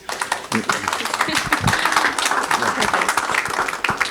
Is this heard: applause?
yes